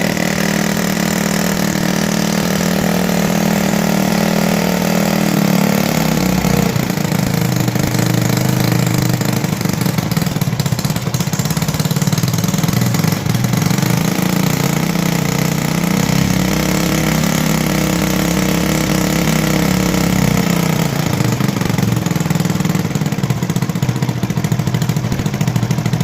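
A motorcycle engine idling steadily while its carburetor petrol mixture is adjusted, a loud close continuous putter that holds an even rhythm for the whole stretch, slightly shifting in tone midway.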